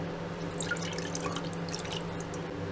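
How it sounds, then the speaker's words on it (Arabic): Water dripping and trickling into a cooking pot while making colorful Egyptian balah el sham dough, steady close small splashes with no talk. "وعندنا حلة هنحط فيها كوباية لربع مية"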